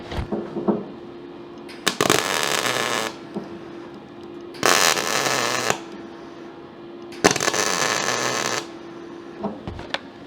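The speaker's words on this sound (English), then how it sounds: "I'm just going to go in and get a few welds around there" Welding a corner of a steel insert fitted into a custom GMH ute tailgate: three loud, sustained crackling, hissing welding bursts of one to two seconds each, separated by quieter pauses with faint clatter, and no talking.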